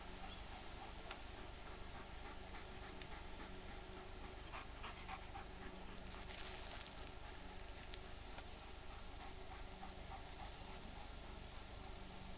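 A dog pants quietly and rhythmically for a long stretch beneath a steady hiss of background noise.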